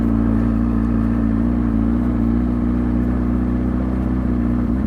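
Motorcycle engine held at barely open throttle during slow-speed riding with the clutch slipped, a steady loud low hum that stays even and unbroken throughout, with no voices.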